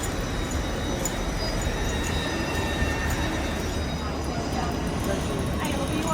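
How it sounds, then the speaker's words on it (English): Train pulling into a station, a steady loud rumble and rolling rail noise filling the platform throughout, with faint voices in the background. "this should be my train coming in now"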